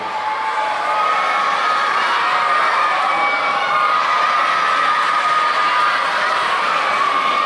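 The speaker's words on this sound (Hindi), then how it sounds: "तालियों की गड़गड़ाहट को सुन सकते हैं" A crowd of schoolchildren and staff at a Satara school cheers and applauds continuously, loud and close, with shouts and whoops sustained through the landing of Chandrayaan 3 on the moon.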